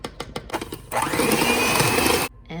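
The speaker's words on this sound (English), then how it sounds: "we're gonna cream that up with an electric mixer" An electric mixer whirs steadily for about a second and a half, creaming a sugar-free keto Oreo cookie filling with vanilla extract, after a few short taps and a brief start at the end.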